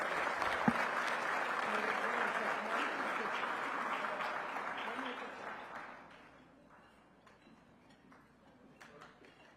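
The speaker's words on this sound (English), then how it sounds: "Please give them a big round of applause." Audience applause at a luncheon: sustained, loud clapping from a large crowd for about six seconds, then fading to scattered claps with a few distinct hand claps near the end.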